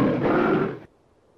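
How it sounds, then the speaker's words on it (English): A Siberian tiger lets out one loud, deep, rough roar lasting under a second, close and alone, cutting off abruptly into near silence. "Our roars are very loud."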